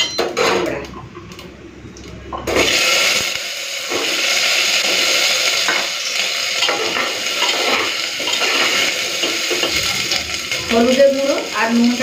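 Hog plums hit hot mustard oil tempered with dried red chillies, five-spice and black mustard seeds, giving a loud, sustained sizzle with spatula scraping and clinks against the pan.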